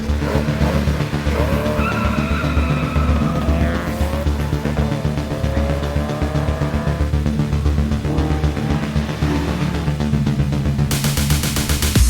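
Group N race cars roar past on a track with loud, continuous engine noise while tires squeal and skid over it, the whole thing dense and near.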